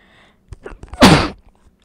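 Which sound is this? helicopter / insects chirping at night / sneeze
sneeze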